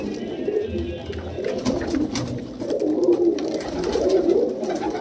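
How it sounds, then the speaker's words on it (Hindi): Domestic pigeons of Punjabi and Madrasi breeds, including Amritsari and kalsira types, coo steadily in a low rolling chorus, close and continuous, with no talk over them. "कबूतर बहुत सारा है, इतना कबूतर चाहिए"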